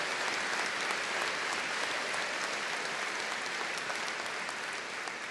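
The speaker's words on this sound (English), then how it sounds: "Yes, let's give him a round of applause." A college inauguration audience gives a round of applause, steady, evenly dense clapping from many hands heard at a moderate distance and sustained without a break.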